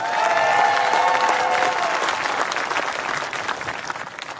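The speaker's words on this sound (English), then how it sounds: "let's give him a big round of applause, ladies and gentlemen" A large crowd applauds steadily at the 2016 World Bowls Championship singles final, a dense wash of clapping that stays loud throughout, with faint whoops or tones early on.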